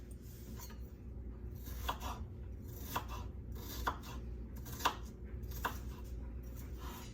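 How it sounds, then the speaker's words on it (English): A knife dices onions on a cutting board, with a row of crisp, evenly spaced chops at a moderate pace over a quiet kitchen hum. "I'm just dicing up a few slices of onions"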